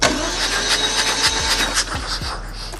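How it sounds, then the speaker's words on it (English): A starter motor cranks a car engine as the key is turned, giving a loud rhythmic churning whir with regular pulses, close by and without talk. "I'm going to demonstrate you how when to turn the key on and what's going to happen when the starter motor to engage."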